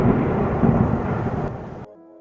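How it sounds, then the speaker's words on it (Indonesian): A loud thunder strike rumbles heavily for almost two seconds in a thunderstorm, then cuts off abruptly to near silence, with no voices. "petir menyambar."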